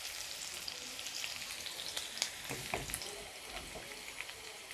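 Eggs fry briefly in a pan, giving a steady soft sizzle with faint crackles and a few light utensil clicks, no voices.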